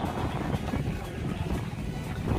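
Wind gusting across an outdoor livestock market where goats are traded for Qurbani, a steady broadband rumble buffeting the microphone for the whole moment, loud and close with no clear talk.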